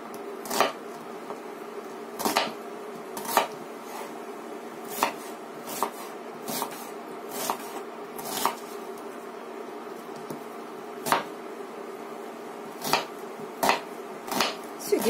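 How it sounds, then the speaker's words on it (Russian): Knife chopping onion on a cutting board for soup, sharp irregular chops spaced a second or two apart, sometimes in quick pairs, over a quiet kitchen background. "Теперь им нарежем лучок"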